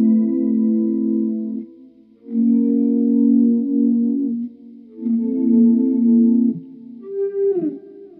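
Electric guitar played through an effects preset with a filter engaged, three sustained chords swelling and warbling with a chorus-like wobble and distortion, followed by a brief bending note at the end.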